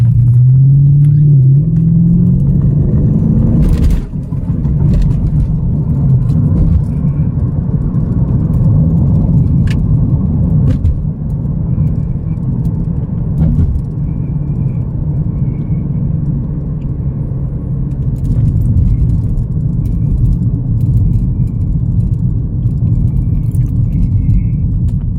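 Lexus GS 430 sedan on a test drive after a check engine light repair for EVAP codes, with a steady close engine and road rumble throughout and a brief louder thump early on.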